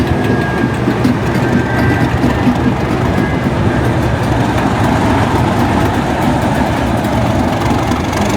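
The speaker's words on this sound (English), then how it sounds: "So that train should be arriving now." A train rumbles and idles steadily at Wolverhampton station, a continuous low engine drone with platform ambience and a faint tonal whine, loud and unbroken throughout.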